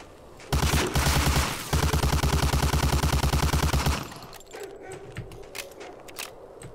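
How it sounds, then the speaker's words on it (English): Sustained automatic gunfire in Medal of Honor: Allied Assault rattles in two long, rapid bursts, loud and close, then cuts off into quieter scattered in-game sounds. "Oh snap, what's shooting at me?"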